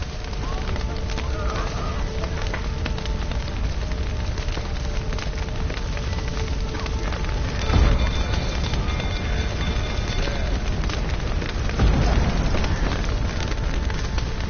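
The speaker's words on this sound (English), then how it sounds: "Looks like rain." Steady rain patters in The Witcher 3 near burning stables, a constant dense hiss with a few heavier thumps and crackles mixed in.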